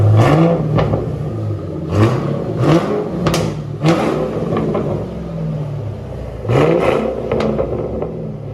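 A 2007 Ford Mustang GT with a 4.6-liter V8 and straight-piped dual exhaust, muffler deleted, revs hard and loud close by in several sharp bursts that drop back to a rumbling idle between blips.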